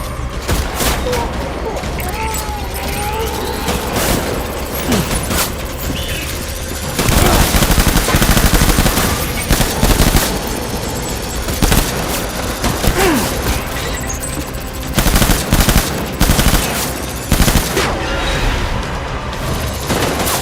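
Gunfire in the video game Death Stranding, loud sustained volleys and heavy booms over a constant rumbling backdrop, with a voice calling out at times.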